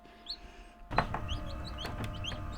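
Faint high peeping chirps of a baby bantam chick repeat over a low background hum and a brief rustle, fairly quiet.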